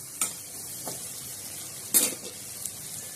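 Red chilli powder and a peanut chutney with garlic are stir-fried in a pan for stuffed green capsicum, heard as a quiet sizzle under a few spoon scrapes and clinks against the pan, with no talking.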